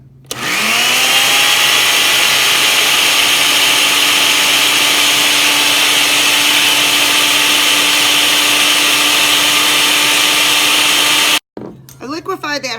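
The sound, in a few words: blender liquefying a hot dog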